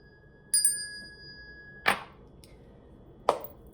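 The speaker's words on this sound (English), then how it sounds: "We're gonna ring a little bell just to cleanse the energy" A small bell rung to cleanse the energy gives a clear, sustained ring at the start, fading slowly, followed by two sharper struck or knocking sounds a little later, with no talk.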